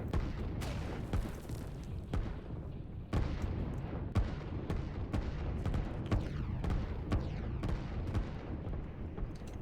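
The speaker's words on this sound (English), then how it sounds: "these artillery are doing a lot of damage to any units that come over there" Repeated artillery booms and gunfire in the Line War real-time strategy game, heavy blasts landing every second or so over a dense battle rumble, loud and continuous with no voices.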